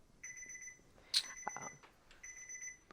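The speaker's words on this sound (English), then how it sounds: "There's a beep." Two faint electronic tones sounding steadily in a quiet room, with a brief click and rustle between them.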